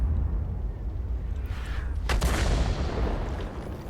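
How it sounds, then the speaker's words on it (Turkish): A tank cannon fires in the World of Tanks video game, a heavy boom rising out of a constant low rumble of game noise. "60 TP'ye bizim GVE100 vurdu"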